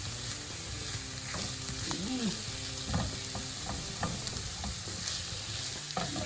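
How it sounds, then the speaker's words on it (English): Garlic sizzles in a hot pan under a low, continuous frying hiss, with soft scattered clicks of a utensil stirring it close by. "Stir it in real good."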